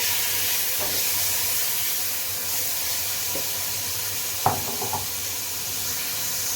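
Chicken frying with sautéed garlic powder and onion in a pan, a steady close sizzle and hiss, with a few brief stirring scrapes partway through.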